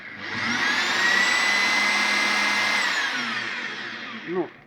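A Bosch AdvancedImpact drill spins up at minimum speed, giving a steady whining hum with a faint high tone that holds for about three seconds, then winds down and stops, close and alone.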